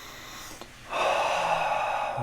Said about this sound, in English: let's get to my personal favorite part, the sniff